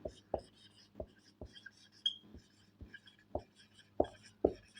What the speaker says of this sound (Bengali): এখানে আমি আরেকটা লিখি